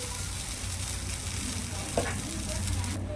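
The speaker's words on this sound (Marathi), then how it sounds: "आपल्याला आहे ना बॅटर घालून घ्यायचं आणि हलकाच स्प्रेड करायचं" Batter for a crisp lace-style dosa hits a hot pan and spreads out with a steady, close sizzle and frying hiss, plus a brief scrape of spreading partway through.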